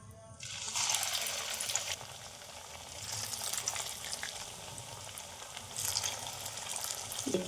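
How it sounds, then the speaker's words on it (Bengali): Shaped snacks of flattened rice and semolina drop into hot oil and fry with a continuous bubbling sizzle, close by, rising and falling in loudness as they cook. "এখানে তেল দিয়েছি, তেলটাও গরম হয়ে গেছে। এখন আমি এগুলো ছেড়ে দিব।"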